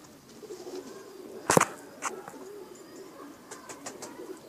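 Pakistani pigeons coo softly at close range, with short cooing calls and one sharp click in a quiet setting.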